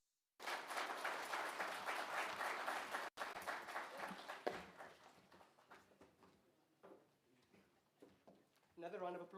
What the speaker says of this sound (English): Shall we please give her an enormous round of applause?